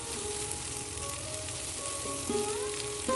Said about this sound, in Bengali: এবার ক্যাপসিকাম কুচি আর টমেটো কুচিগুলো আমি 1 মিনিট হাই ফ্লেমে ভেজে নিচ্ছি